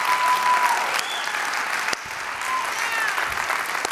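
Sustained audience applause from a church congregation during a fundraising offering announcement, steady dense clapping filling the room with no voice over it.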